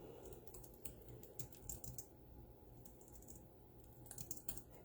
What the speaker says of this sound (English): I'll type that in really quick.